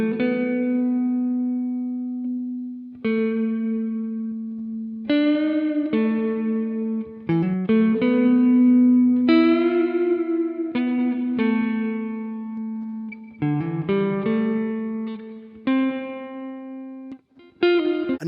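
A melodic synth or instrument line is played through a Waves IR convolution reverb plugin, with sustained notes trailing into a smooth reverberant tail and no talking.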